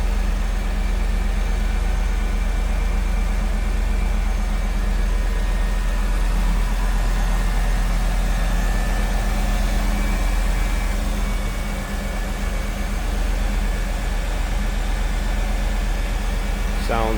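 The engine of a 1997 Chevrolet Camaro Z/28 convertible idles with a steady, loud, close rumble throughout, and a voice speaks over it.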